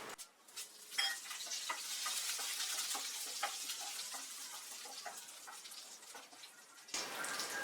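Curry leaves, mustard seeds and dried red chillies fry in hot oil as the tempering for a Tamil potato fry. A steady, close crackling sizzle carries scraping stirs and drops off briefly near the end.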